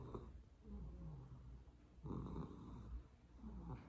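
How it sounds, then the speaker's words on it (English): A pet dog snores softly up close in a quiet room, with a few slow, low, raspy breaths repeating at an even pace. "Her little snore,"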